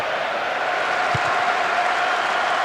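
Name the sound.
stadium crowd cheering in PES 2008 video game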